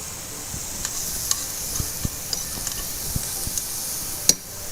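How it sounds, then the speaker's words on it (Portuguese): Bacon and smoked sausage fry in their own fat in a pot for a Northeastern Brazilian dish, a steady soft sizzle broken by scattered small pops and ticks, close and alone. "vou abafar aqui para que a gente comece a cozinhar só com a gordura desses próprios ingredientes."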